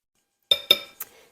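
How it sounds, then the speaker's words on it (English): A spoon clinks against a pot while sweet rice is mixed in a Northern New Mexico kitchen: three quick, close metallic taps, the last lighter and brighter. "And we're just going to be mixing."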